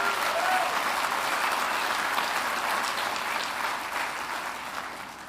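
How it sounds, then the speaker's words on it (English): An audience at a hospital research center groundbreaking ceremony breaks into steady, full applause, a thick continuous clapping that holds level and eases slightly toward the end. "that's worth a clap"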